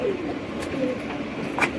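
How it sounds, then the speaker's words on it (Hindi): A male Sarangpuri pigeon coos softly and repeatedly against a steady background hum, fairly close by. "ये सारंगपुरी कबूतर है, नर है ये भी"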